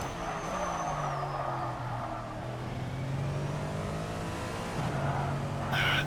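A race car in a racing video game drones steadily with a sustained engine tone that climbs and settles as gears shift, with tire noise underneath and a sharper burst near the end.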